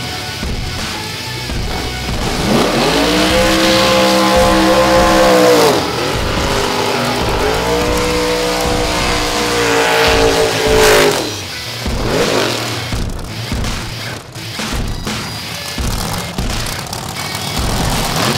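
Drag racing cars at Atco Dragway, one a 498-cubic-inch nitrous engine and another a 700-cubic-inch engine, rev loudly with rising and falling harmonic roars, near and continuous, with a burst of purging hiss and no talk.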